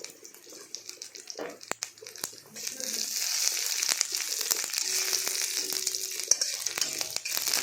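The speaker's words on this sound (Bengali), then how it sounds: "ভালো করে সেটা ভেজে নিতে হবে ভাজা হচ্ছে" Green chillies, dried red chillies, panch phoron and a few garlic cloves frying in hot oil for a Bengali masoor dal with drumstick leaves, a steady sizzle that builds louder halfway through, with scattered clinks and a voice speaking over it.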